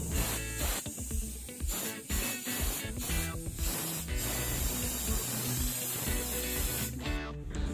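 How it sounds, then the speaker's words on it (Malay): Spray flushing the refrigerant system of an old, long-unused Panasonic air conditioner, a continuous loud hiss running steadily close by with faint rubbing and tool clatter. "Flushing sistem ni perlu dilakukan berulang kali sehinggalah sistem benar-benar"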